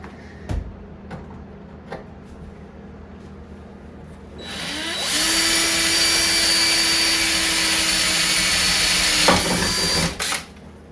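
A power drill fitted with a step drill bit bores a hole, winding up and whining steadily for about five seconds before it stops. A few light knocks and taps come before it, close by.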